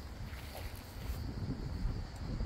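Strong wind buffets a microphone behind a cemetery wall, producing a continuous low rumbling roar with gusty swells over a broad hiss, close and unbroken for the whole stretch.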